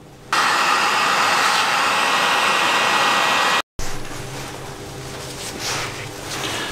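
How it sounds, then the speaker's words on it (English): A heat gun warms a bearing race on a Suzuki GSX600F Katana, blowing a loud, steady close-up hiss that cuts out briefly, then returns as a softer whoosh. "I'm going to give it a heat up with the heat gun."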